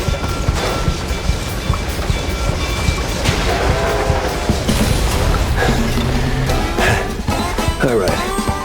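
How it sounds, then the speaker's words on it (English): A train rumbles past in the video game Mouse: P.I. For Hire, a loud, continuous rolling roar with rhythmic clatter and a horn-like tone near the end, filling the whole stretch with someone talking over it. "Just don't follow the damn train."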